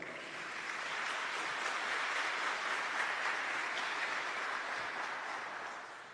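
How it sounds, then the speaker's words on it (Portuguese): Soft, even applause from an audience at a Catholic talk on Marian consecration swells and holds for several seconds before tapering off, heard at a distance. "Pode aplaudir também."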